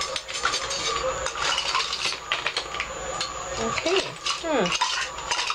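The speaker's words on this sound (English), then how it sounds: "Get a spoon so I can texture the top." A spoon scrapes and clinks while texturing the top of silk clay soap, with a steady close scratching and tapping and a brief spoken word over it.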